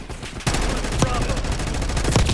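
Rapid automatic gunfire in Call of Duty, a loud continuous burst of close shots that starts abruptly and keeps going to the end, with sharper individual cracks standing out.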